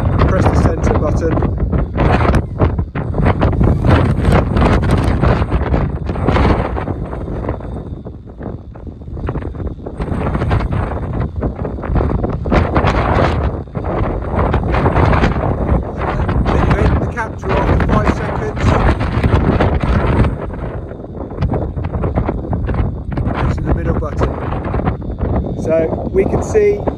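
Strong outdoor wind at about eight metres per second buffets the microphone continuously, with loud, rumbling gusts that rise and dip throughout. Muffled voices come through faintly under the roar, at a range where someone is setting up a weather meter before shooting.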